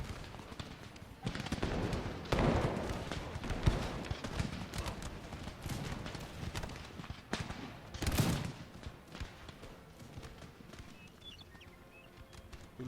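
Musket infantry in the Empire Total War battle of Naples fire crackling volleys that roll out in ragged bursts at a middle distance, with a loud swell partway through and quieter scattered shots trailing off, no voices.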